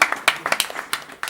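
Scattered handclaps from a small conference audience, a handful of distinct claps spread unevenly over a brief moment, close and fairly loud.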